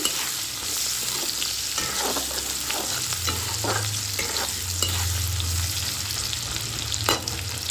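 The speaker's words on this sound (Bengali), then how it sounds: "আগে থেকে কুচানো কিছুটা পেঁয়াজ সমস্ত উপকরণ আমি ভালোভাবে নাড়িয়ে নিচ্ছি" Onions sizzle and fry steadily in a pan while a utensil scrapes and stirs through them at intervals, close up, with no voices.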